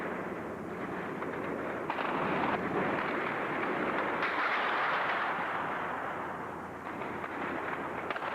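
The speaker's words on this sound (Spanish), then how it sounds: "Ametralladoras del tanque." A tank's machine guns fire in a street during a military coup near the defense ministry and government palace in Chile. The result is a sustained, rumbling wash of gunfire heard from a distance, with bursts that swell and fade and no voices.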